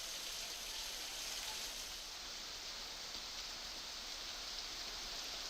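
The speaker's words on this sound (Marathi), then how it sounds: "मुसळधार पाऊस कन्नूर या भागामध्ये पडतोय" Heavy monsoon rain pouring down in Kannur, Kerala during flooding, a dense steady hiss of falling water that stays loud and even throughout, with no voices.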